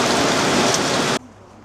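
Heavy rain roars loudly and steadily for just over a second and then cuts off sharply, leaving a faint low rumble. No thunder clap stands out.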